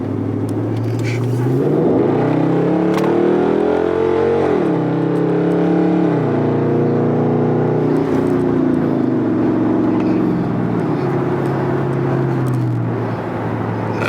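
A Dodge Charger R/T fitted with a Pedal Commander accelerating hard, with a loud, steady engine roar whose pitch climbs and drops through gear changes for the whole stretch, heard close from inside the car.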